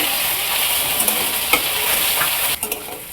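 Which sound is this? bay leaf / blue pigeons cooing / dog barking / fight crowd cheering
bay leaf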